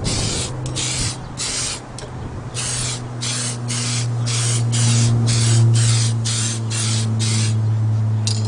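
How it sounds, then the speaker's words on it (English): Short, repeated bursts of aerosol spray paint hiss onto an RC truck body, about a dozen light passes in a steady rhythm, close up over a low background hum. "You want really light, light sprays because you don't want it to run"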